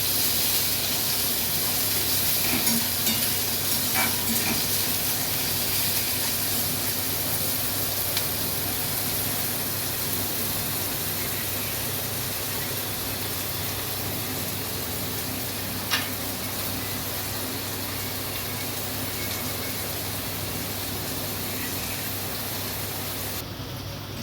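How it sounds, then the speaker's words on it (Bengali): Chopped onion sizzles in hot oil in a pan, a steady broadband hiss with faint crackles, continuous and fairly quiet, with no talking. "দেখুন পেঁয়াজটা এরকম অল্প ভাজবেন"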